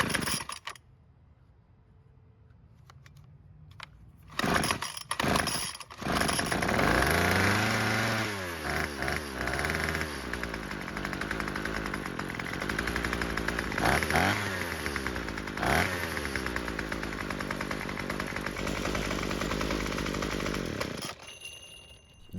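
A gas string trimmer's small two-stroke engine coughs and catches, then runs loud and close with several throttle squeezes rising and falling in pitch before it settles to a steady buzz and cuts off.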